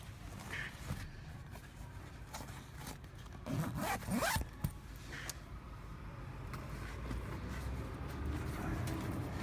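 A zipper on a VW T5/T6 seat cover being drawn in several short pulls, with one louder, longer zip in the middle, close up amid light handling rustle.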